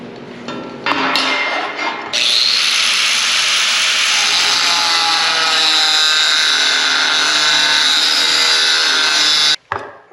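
A power saw cutting thick aluminum angle iron gives a loud, sustained high-pitched screech for about seven seconds, after brief starts and taps, then stops abruptly.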